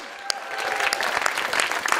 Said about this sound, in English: Please clap it up for Dage.